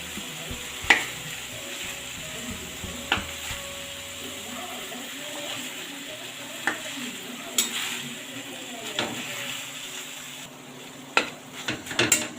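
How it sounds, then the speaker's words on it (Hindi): Mingi paag mixture roasts in ghee in a kadhai over a medium flame, a soft steady sizzle broken by occasional spoon taps and scrapes against the pan, close but fairly quiet. "आप इसको मीडियम फ्लेम पर ही भूनिए।"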